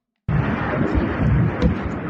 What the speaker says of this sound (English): You're going to see multiple explosions in this video.